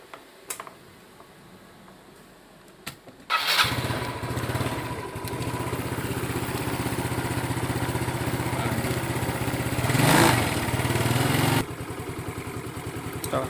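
A motorcycle engine starts and settles into a steady idle, close and fairly loud, with a louder revving swell partway through before dropping back to a steady run, during a grounding strap test.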